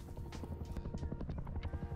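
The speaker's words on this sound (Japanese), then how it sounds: "でもまたヘリ来てる。" Helicopter in a video game, a steady rapid rotor thump heard close and loud for the whole stretch.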